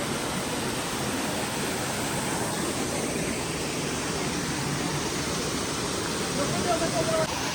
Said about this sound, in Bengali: তো এই হচ্ছে দুর্গা ফলসের দৃশ্য,